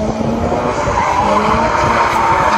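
Car drifting on a Tokyo course, tires squealing in a sustained high-pitched skid over a loud engine note, continuous and close throughout with no talking.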